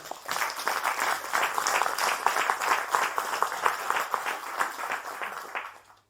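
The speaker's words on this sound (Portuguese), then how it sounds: "peço para eles todos uma salva de palmas" An audience claps for volunteers at an event, a dense, lively round of applause that swells, holds steady and then tapers off toward the end.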